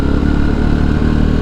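Motorcycle riding through a scenic national park near Ohrid, its engine running steadily with a low, continuous rumble and clatter, close and loud throughout, no voices.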